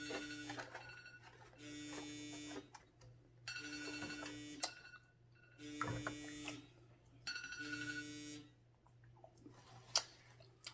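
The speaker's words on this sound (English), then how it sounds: "This is just my timer." Kitchen timer going off during a KFC pot pie and Smithfield barbecue sandwich mukbang, sounding as repeated electronic beeping bursts in a steady on-off rhythm, each lasting about a second or two, moderately loud with no talk over it.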